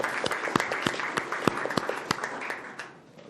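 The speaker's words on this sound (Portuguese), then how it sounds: "Uma salva de palmas aí para essa turma" An audience in a Brazilian Senate joint session applauds a visiting group, with loud, rhythmic, synchronized claps standing out over a bed of scattered clapping that fades toward the end.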